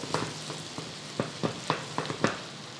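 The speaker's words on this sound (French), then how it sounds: "Le beurre est bien moussant." Butter sizzles and foams close up in a hot pan for cooking trout, with a steady frying hiss broken by sharp little crackles and pops.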